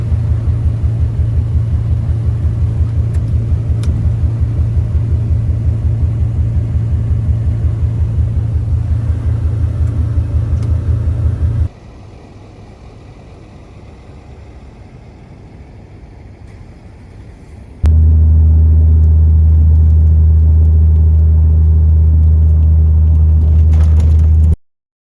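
A truck on a Florida road tows a skid steer behind it, its engine a steady low rumble that drops quieter midway, then returns louder and heavier before cutting off at the end.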